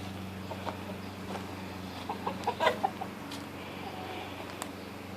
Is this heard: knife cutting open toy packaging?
no